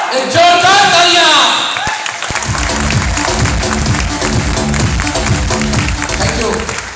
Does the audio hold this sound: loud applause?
yes